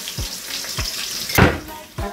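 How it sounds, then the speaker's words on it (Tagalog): Onions frying in a pan for a pork chop steak dish, a steady close sizzle broken by several sharp clatters and one louder burst of spattering, with no voices. "pipirituin muna natin ang ating onions dito guys na para sa steak"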